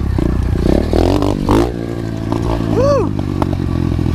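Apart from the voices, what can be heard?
SSR 125 pit bike riding down a trail bump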